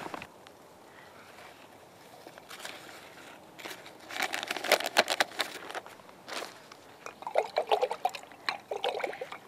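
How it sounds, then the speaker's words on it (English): Warm water trickles and pours over a wool skein in a container, with irregular splashes and dribbles that grow louder and busier partway through, alongside faint handling sounds and no speech. "Now the skein is soaked in warm water or hot water."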